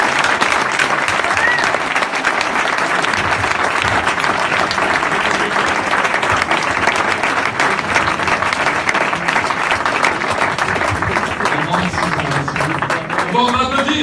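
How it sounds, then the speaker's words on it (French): Loud, sustained applause fills the hall after a talk on startups, many hands clapping steadily, with a voice coming in near the end as the clapping fades. "Bon, on va applaudir, s'il vous plaît."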